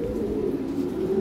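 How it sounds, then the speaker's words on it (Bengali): A pair of toy bit pigeons coo close by in a low, steady murmur that continues without a break, with no voices over it. "এখানে এক জোড়া কবুতর আছে, এটা টয় বিটের কবুতর"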